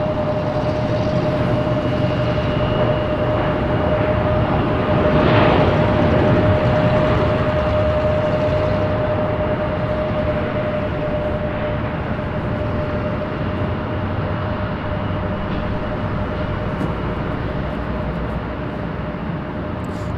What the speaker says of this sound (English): this is our 737 arriving first